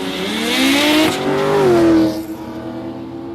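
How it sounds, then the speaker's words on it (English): A small rotary-powered drag car launches down the strip at Warwick Dragway, its engine rising in pitch with a harsh, buzzing rasp, dipping briefly at a gear change, then climbing again before fading quickly into the distance. "Stephen Beach got the little rotary powered car."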